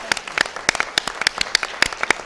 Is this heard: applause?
yes